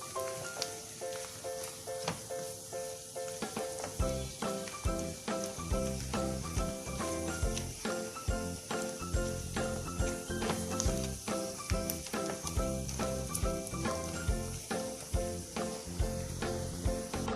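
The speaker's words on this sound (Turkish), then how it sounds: "Salçasını da iyice kavuralım." Tomato paste frying in a pan for boiled potatoes with eggs, a dense continuous sizzle with crackles running throughout, joined after a few seconds by a rhythmic scraping and tapping of stirring, with no voices.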